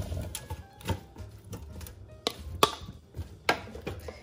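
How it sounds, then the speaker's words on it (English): Seasoned potatoes drop into an air fryer pan as a series of soft, close thuds and light clicks, spaced irregularly over a quiet background. "Now I'm gonna go ahead and put my potatoes right in the air fryer pan."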